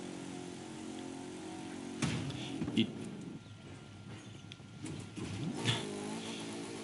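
A small off-road buggy in The Crew 2 held at full throttle, a steady buzzing engine drone with a few revving swells, heard under someone talking.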